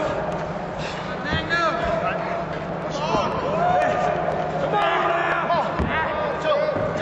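Crowd noise rises throughout at a pro wrestling show as fans rally behind the wrestler Magnum, with scattered shouts and cheers under continuous commentary and occasional ring thuds.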